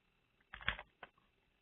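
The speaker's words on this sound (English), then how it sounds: "let's type in Foot Locker" Typing on a computer keyboard to enter a stock name on a finance website: a quiet, brief burst of a few clicky keystrokes, close to the mic, with no talking.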